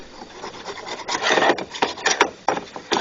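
Old gasket material being scraped off the thermostat housing of a 2003 Jeep with the 4.0 engine, a close, continuous rasping scrape in uneven strokes that surge and fade over a few seconds.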